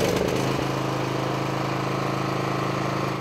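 Engine of a Dayliff DG Multi-4 multi-function power pack running steadily just after an electric key start, a loud continuous mechanical drone with a brief rougher burst at the start, no voices.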